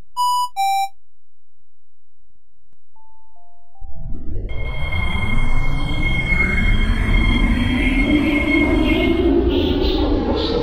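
A metro train departs an elevated station: a two-tone door chime sounds, then a pause before the electric traction motors whine up and the cars rumble away, rising in pitch and staying loud and steady.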